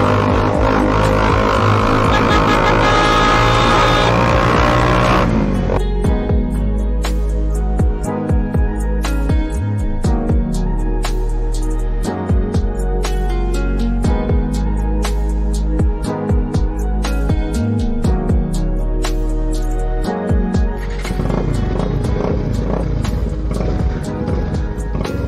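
Bajaj Pulsar 220 motorcycle exhaust while riding, a loud continuous engine drone with revving swells and several sharp throttle blips and pops through the middle, steady and close throughout.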